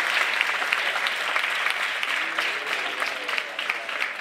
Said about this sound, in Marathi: सर्वांनी जोरदार टाळ्या वाजवून त्यांचे स्वागत करायचे